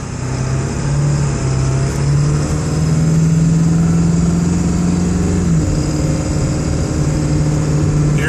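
A 2002 Ford F350 dually 4x4 pickup with a 7.3 Powerstroke diesel drives steadily, its deep engine drone and road hum loud and continuous, with the pitch easing slightly near the end.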